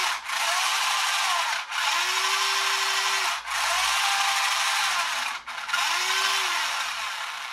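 A small motor fitted with a 3D printed pinion gear runs unloaded with a steady high whirring buzz, briefly cutting out and stuttering four times before picking back up; no one talks.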